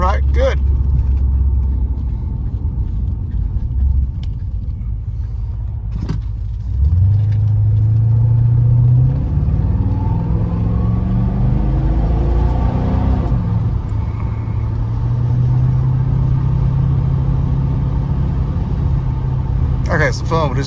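A 1980 Porsche 928 V8 drives down a road, its engine a steady low rumble that rises and falls with gear changes, with a person talking over it throughout.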